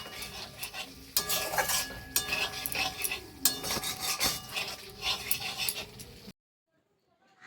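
A spoon stirring roasted cauliflower sprinkled with garam masala in a pan, busy clinking and scraping over a soft sizzle for about six seconds before it cuts to silence.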